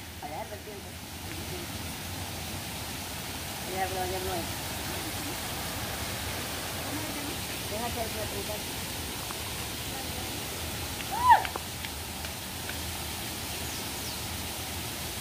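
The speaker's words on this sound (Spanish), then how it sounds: "El vertiente de agua." Mountain water stream flowing in a steady, even broadband rush that holds level throughout, with a brief sharper splash or knock near the end.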